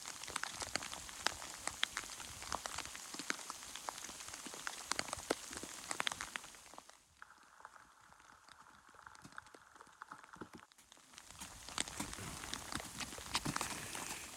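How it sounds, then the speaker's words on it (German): Rain and hail pattering steadily onto a snowy mountain trail on Tahtalı Dağı along the Lycian Way, a dense hiss of drops that eases to a quieter spell midway before returning at full strength. "Hier liegt teilweise Schnee und es hagelt. Und wir haben auch ganz schön Regen."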